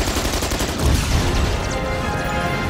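Rapid, continuous automatic gunfire from a 50-round magazine gun in Resident Evil 6, a loud unbroken burst of shots with heavy low thumps, alone.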